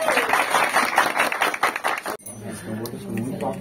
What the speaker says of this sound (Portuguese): palmas pra mãe de santo.